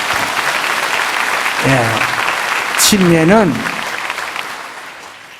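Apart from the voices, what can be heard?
congregation applauding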